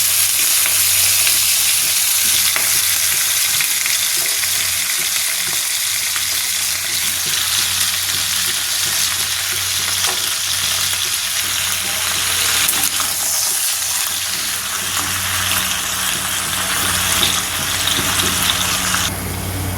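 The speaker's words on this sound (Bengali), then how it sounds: "তেলটা গরম হয়ে এসেছে, চিকেনটাকে হালকা করে ভেজে নিই।" Chicken seasoned with salt and lemon juice fries in hot oil, a loud, dense sizzle running continuously with occasional stirring scrapes and no talk.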